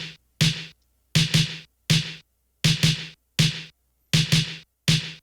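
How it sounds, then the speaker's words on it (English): Isolated snare drum hits from an FL Studio indie post-punk beat, sharp bright cracks with short tails, fired in repeating pairs and singles separated by silence, loud and dry with nothing else playing. "this is what the snares sound like isolated"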